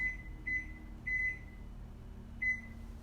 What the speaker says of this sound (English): I will set my timer for 30 minutes.